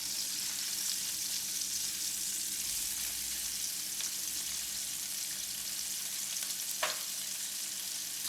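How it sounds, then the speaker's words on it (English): Shrimp sizzle in a hot pan during a stir-fried flat noodle dish, a steady close hiss of oil throughout, with one sharp clink of a utensil against the pan near the end. "Cook the shrimp for 30 seconds. Flip all the shrimp to the other side and cook for 30 seconds more."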